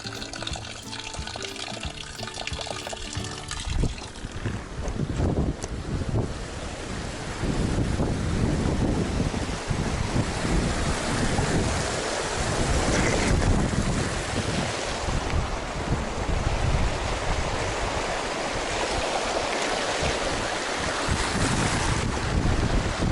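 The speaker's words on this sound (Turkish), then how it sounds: "Buradan böyle bir çay akıyor. Bir dere akıyor artık her neyse." A stream flows beside a campsite near a village, making a steady rushing wash of water mixed with wind noise, fairly loud and continuous, with some rustling at the start.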